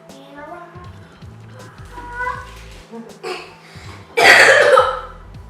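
A voice chatters, then a loud, harsh cough bursts out near the end, much louder than the talk before it.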